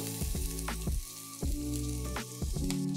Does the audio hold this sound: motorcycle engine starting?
no